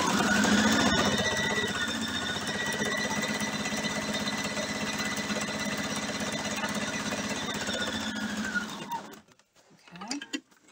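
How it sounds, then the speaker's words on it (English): Sewing machine stitching striped quilt fabric, a steady continuous whirring hum running for about nine seconds before stopping, with faint handling sounds afterward. "I'm going to line it up. And sew that."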